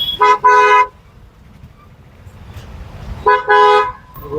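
Two loud car horn honks in a traffic jam under a bridge, the first a quick double toot, the second a longer blast, with road traffic rumbling between them.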